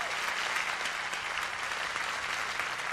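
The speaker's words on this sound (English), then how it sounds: "Give these guys a great big round of applause." Steady audience applause fills a gospel concert hall, a dense, even patter of many hands clapping at moderate distance without pause.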